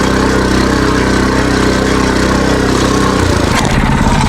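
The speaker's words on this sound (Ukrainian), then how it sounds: "Тепер зараз включаємо максимальний. Це буде максимальний газ. Перша швидкість" A Husqvarna TF 230 cultivator engine at full throttle in first gear, running loud and steady close by, with its drone shifting and roughening near the end.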